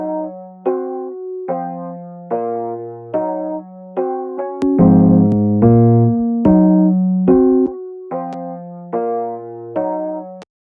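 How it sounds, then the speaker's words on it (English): Lo-fi hip hop sample processed with a 1950s vinyl effect and chorus, its low end thinned and phasey: a looping melodic phrase of plucked, keyboard-like notes with a fuller middle section, moderately loud and alone. "So as you can hear, the low end's gone and it sounds a bit phasey"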